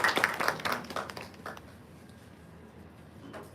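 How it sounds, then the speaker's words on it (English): Scattered audience clapping at a morning session, a burst of claps in the first second or so that thins out and fades into quiet room noise. "A huge round of applause."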